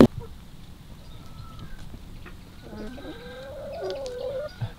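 Hens and roosters in a farmyard give soft, scattered clucks and short calls, fairly faint against quiet background noise, with a louder knock at the very start and end.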